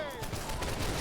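Massed musket infantry volley in a black-powder era shooter game, a dense ragged burst of many overlapping shots crackling at once for about a second, with a voice speaking faintly underneath.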